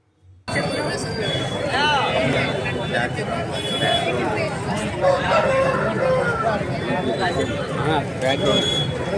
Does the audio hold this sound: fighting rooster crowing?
yes